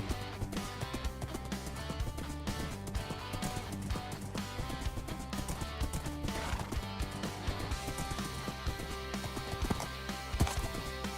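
Minecraft horse galloping, steady clip-clop hoofbeats with occasional whinnies at moderate level against continuous background game sounds, no talking.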